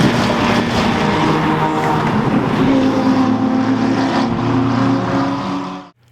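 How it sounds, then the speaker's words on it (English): A Chevy El Camino race car drives on the Road Atlanta circuit during an endurance race, its engine droning loud and steady with a sustained tone before cutting off abruptly near the end. "Number 323, Chev Mullet Racing and their Chevy El Camino"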